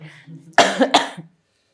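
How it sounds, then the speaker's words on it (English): Two sharp, loud coughs in quick succession close to the microphone, preceded by a faint throat sound, then silence. "I'm really sorry if I just cough really loudly into my microphone"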